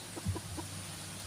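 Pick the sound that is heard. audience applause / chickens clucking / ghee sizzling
chickens clucking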